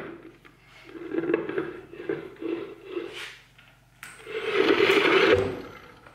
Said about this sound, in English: take the white Scotch Brite pad, buff the surface